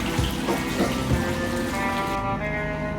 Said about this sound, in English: That gets rinsed off in clean water.